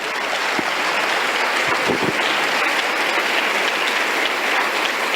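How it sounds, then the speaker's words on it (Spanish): A church congregation applauds, filling the room with a dense, continuous wash of clapping that holds at an even, loud level from start to finish, with no voices above it. "Denle un aplauso al Señor."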